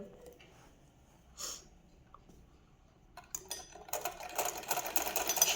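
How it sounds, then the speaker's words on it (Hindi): A sewing machine stitching a hem, quiet at first, then whirring steadily and rising in loudness through the last couple of seconds, close up with no talk. "अब इसको वापस से सिलाई करते हुए जाएंगे सीधा।"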